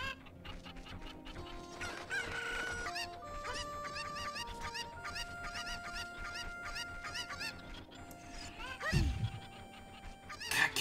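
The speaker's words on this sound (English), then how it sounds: "catching these cuckoos is really hard. They keep running away." Cuccos cluck and crow in Kakariko Village in Ocarina of Time, a busy chorus of game chicken squawks over background game music with a heavy thud near the end.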